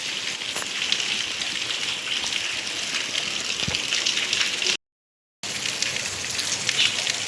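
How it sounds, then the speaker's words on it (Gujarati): Heavy village rain on a day of continuous downpour, a steady dense hiss with scattered drop impacts, loud and close throughout, broken by one brief dropout, with no talking. "તો કઈ જમાજમ વરસાદ તો ચાલુ છે આખા દિવસનો"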